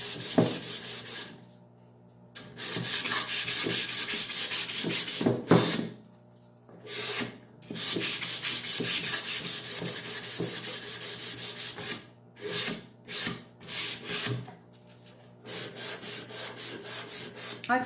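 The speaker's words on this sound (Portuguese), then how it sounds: "Mas normalmente eu lixo no sentido das ripas aqui" Wooden crate slats are sanded by hand along the grain, giving repeated scratchy back-and-forth strokes in bursts with short pauses between them.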